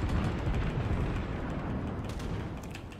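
Heavy naval gunfire and shell impacts around a USN New Mexico battleship in World of Warships, a continuous deep rumbling roar of booms and blasts, loud and dense throughout.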